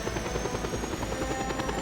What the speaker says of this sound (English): Going as fast as this fucking chopper will go